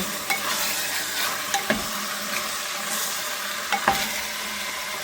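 Chicken pieces seasoned with pepper brown in a pan, sizzling steadily while a utensil scrapes and stirs them in several sharp, close strokes.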